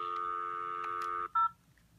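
A telephone keypad sends a long, steady dial tone for about a second and a quarter, then a brief, loud single DTMF keypress tone and near silence, with no talk.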